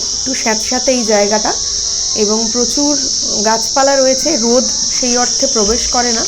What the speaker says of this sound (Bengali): ঝিঝির ডাকও কানে আসছে।